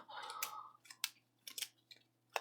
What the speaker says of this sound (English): a nice good shuffle of 12 cards